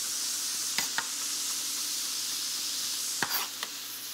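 Mushrooms sauté in a pan with a steady broadband sizzle, broken by a few sharp stirring clicks and scrapes; no one speaks.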